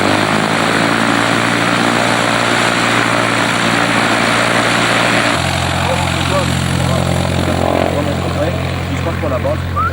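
Piper Cherokee tow plane engine running at an airfield, a loud steady propeller drone whose pitch shifts up partway through as it powers up, with people talking over it.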